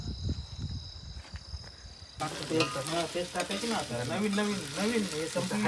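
Mutton frying with spices in a pot over an outdoor wood-fired clay stove at night: a steady sizzle with insects chirping, then voices and tonal sound rise over the cooking for the rest.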